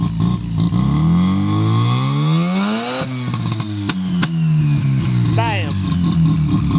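A Mazda RX-7 engine revs hard and loud, close by, its pitch climbing steeply to a peak and then dropping into a rough, rumbling idle, with a few sharp cracks and a short voice sound partway through.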